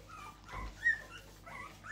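A puppy whimpers in a few short, high, thin cries, close and soft, with a brief louder yelp in the middle.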